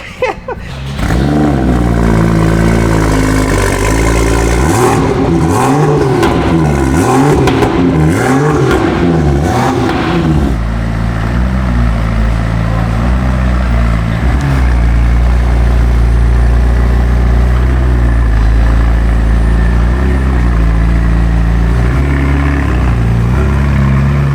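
A powerful BMW car engine fires up nearby and revs repeatedly in rising and falling surges, then settles into a loud, steady idle.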